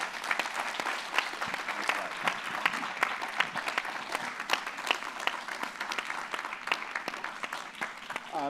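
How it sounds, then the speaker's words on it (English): An audience at an author's book talk applauds warmly, with dense, steady clapping from a roomful of people that holds throughout without letting up. "Huge round of applause for Eric."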